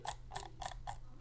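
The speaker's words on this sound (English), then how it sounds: "Scroll wheel click." Scroll wheel of an Xm1 RGB claw-grip gaming mouse being clicked, four or five crisp, close plastic clicks spaced evenly about a quarter second apart, alone with no talk.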